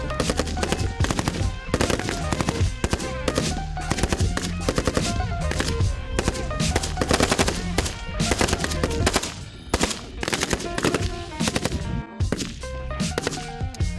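Rapid bursts of machine-gun fire and gunshots at a shooting range where journalists fire weapons from pistols to a machine gun, loud and close, with repeated cracks packed densely throughout.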